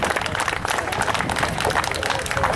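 A wrestling show audience applauds in a dense, steady patter of many hands clapping at once, moderately loud and fairly close.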